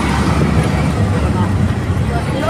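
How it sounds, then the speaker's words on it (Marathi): An auto rickshaw ride through town: a constant rumble of the engine and the road, with the hum of nearby traffic behind it, while people talk inside the cabin. "चला आम्ही रिक्षात बसलोय"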